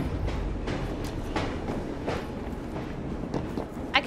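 Train riding in Assassin's Creed Syndicate, set in Victorian London: a steady rumbling rail roll with faint rhythmic clatter and scattered clicks, continuous and close throughout.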